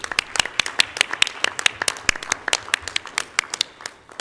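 Applause at a school board meeting honors students after a race, with a handful of people clapping crisply and quickly in a close, uneven patter that carries on steadily throughout.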